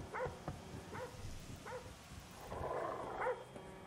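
Dogs bark repeatedly outside Lester's house in Grand Theft Auto 5, sharp evenly spaced barks under a low game ambience, the last bark overlapping a brief burst of other noise.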